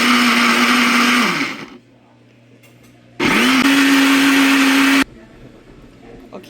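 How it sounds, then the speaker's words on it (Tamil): A kitchen mixer grinder blends tomatoes for a paneer gravy, whirring loudly and steadily up close, cutting out, then starting again for a second burst before stopping. "சேர்த்துட்டு இதையும் அரைக்க போகிறேன்."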